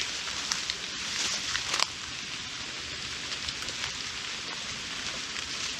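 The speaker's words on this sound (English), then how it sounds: "Unfortunately, it started raining" Steady video game rain hisses continuously, a dense patter of drops at an even, moderate loudness with a few sharper ticks early on.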